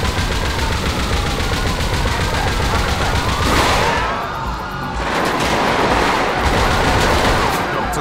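Rapid, loud machine-gun fire from a Weevil light armored vehicle in GTA 5 at a military base, continuous bursts with a short pause midway, heavy and close, with no talk over it.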